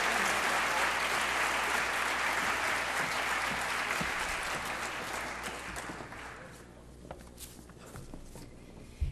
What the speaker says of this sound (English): Please give them a round of applause for their hard work,